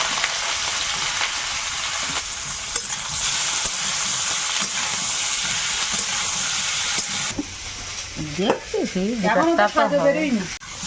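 Potatoes slipped into hot oil in a home kitchen pan while cooking an egg, potato and pumpkin shukto, giving a loud steady sizzle and crackle throughout, with a brief whistling, warbling tone rising over the frying near the end.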